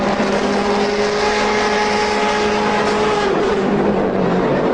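DTM race cars leave the pits at Hockenheim, engines droning loud and continuous with a steady high whine that shifts slightly in pitch.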